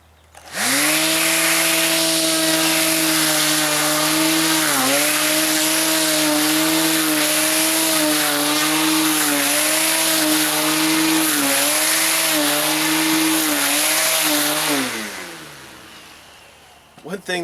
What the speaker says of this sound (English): I'm going to try this out with my 40 volt trimmer.